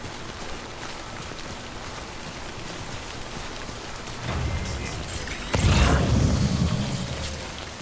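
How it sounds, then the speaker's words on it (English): Timefall rain in the video game Death Stranding hisses steadily, then swells into a heavier, louder rush partway through, with a low rumbling burst near the end. "Don't stay out in the rain any longer than you have to"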